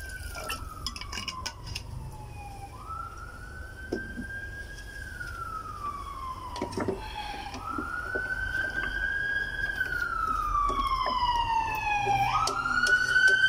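A police siren wails in repeated rising and falling sweeps, moderately distant and steady over about thirteen seconds, growing somewhat louder toward the end, with faint clinks of kitchen pots and utensils nearby.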